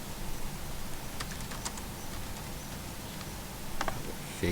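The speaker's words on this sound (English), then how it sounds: "So we can type him in." Quiet, fast tapping on a computer keyboard as a name is typed, a few sharper key clicks standing out over steady faint background hiss.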